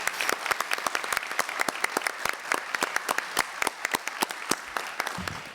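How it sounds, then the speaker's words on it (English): Conference audience at an aviation security capacity-building session gives sustained applause, many separate hand claps ringing out clearly in a steady patter, fairly near, with no talk over it. "I invite you to give a very warm hand of applause for our session"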